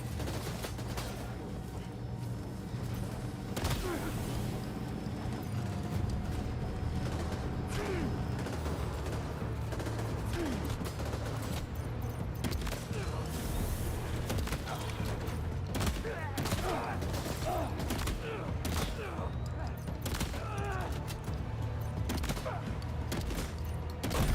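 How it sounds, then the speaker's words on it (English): Shotgun blasts and bursts of gunfire crack repeatedly during combat in Death Stranding 2, sharp irregular shots over a constant rumbling background, with occasional talking mixed in. "Shotgun."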